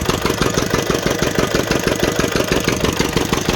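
An engine drives a chakki flour mill, a loud, steady, close running drone with a rapid even chugging pulse throughout and no talking.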